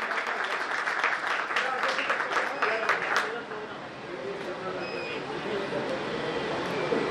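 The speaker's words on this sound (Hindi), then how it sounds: "एक बार जोरदार तालियां होंगी।" An audience at a community hall function breaks into strong applause for donors, dense clapping for about three seconds that then fades into a quieter room murmur and background hum.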